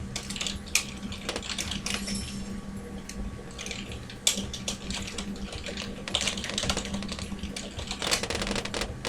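Rapid, close keyboard typing runs steadily throughout, with quick irregular clicks and occasional louder keystrokes; no one speaks.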